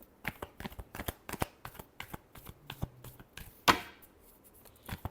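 A deck of tarot cards is shuffled by hand in a quiet room: a run of crisp, closely spaced flicks and soft slaps, fairly near, with one sharper riffle burst toward the end and no talking.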